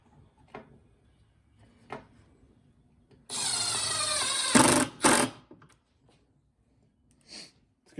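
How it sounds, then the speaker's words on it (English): A power drill drives screws into wood while a drill storage unit is built, with one sustained whirring run followed by two short bursts, close and loud, amid quiet handling knocks before and after. "just got to run in some more screws"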